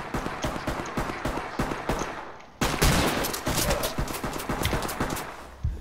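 Gunfire in the tactical shooter Ready or Not, with rapid bursts of automatic shots crackling continuously and a sharp louder barrage partway through, close and dominant throughout.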